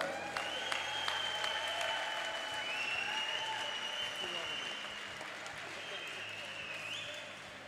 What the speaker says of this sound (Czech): tak vás poprosím o velký potlesk pro oba borce